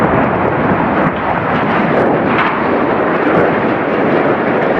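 A boiler house in Mariupol is blown up, giving a loud, dense roar of blast noise that stays sustained and broadband through the short stretch, with no voices.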